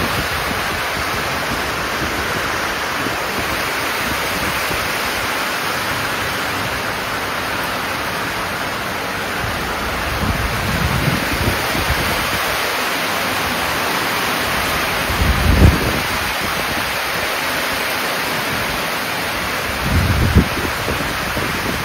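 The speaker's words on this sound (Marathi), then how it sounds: "रात्रीचा एवढा जोरात पाऊस आलाय ना, एकदम झबराट आलाय" Heavy unseasonal rain pours down at night as a dense, steady roar of hiss with a few low thuds rising briefly above it, with no voices heard.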